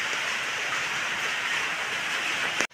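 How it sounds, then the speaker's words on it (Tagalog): Heavy rain pouring steadily on a road in Calaca, a dense, even hiss that stays loud and close throughout with no pauses, then cuts off abruptly at the end. "lumakas pa nga po ulit ang ulan"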